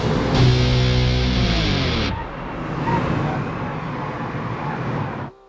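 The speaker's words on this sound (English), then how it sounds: "Big monster truck." Monster truck in the BeamNG driving game with a loud, steady engine roar and rising whine, a sharp change about two seconds in, then continuous rough driving noise that cuts off near the end.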